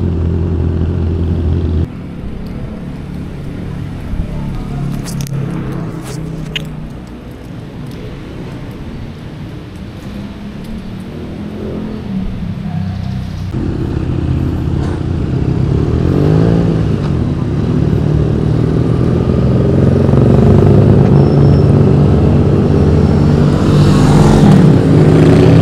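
A group of motorcycles, a Triumph Trident 660, Honda CB650R and Honda Rebel 500, ride together on the road, their engines droning steadily and rising in loudness as they accelerate, with no talking.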